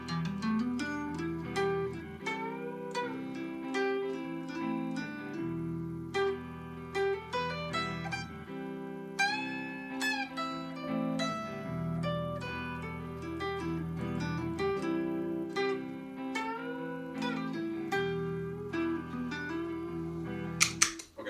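An electric guitar plays flowing melodic C Lydian scale runs over a repeating low note pattern, steady and unaccompanied by any voice.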